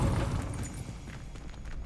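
Incendio fire spell cast in Hogwarts Legacy, a loud, dense burst of fiery roar that is strongest at the start and then holds as a steady rumbling rush for about two seconds.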